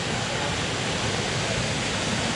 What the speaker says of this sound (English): right there at the base of the waterfall